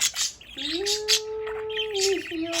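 A pet budgie chirps close by, giving sharp tweets followed by a long, steady whistled call and then more short chirps, clear and fairly loud in a quiet room.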